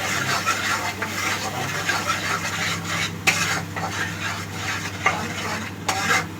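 Red chilli powder, coriander powder and green chillies sauté in oil in a pan while being stirred. A steady sizzle runs throughout, broken by repeated scrapes and clinks of the spoon against the pan.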